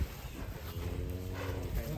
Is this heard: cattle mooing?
yes